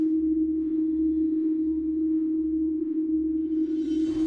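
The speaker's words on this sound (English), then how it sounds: "people are reporting a low, incessant, highly disturbing hum" A low, steady droning hum reported in a bedroom, worse at night, sounds as one continuous tone with a faint pulsing undertone, alone with no voices and a brief noisy swell near the end.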